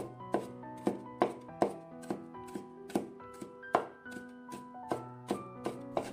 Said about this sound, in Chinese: 再改刀切成蒜末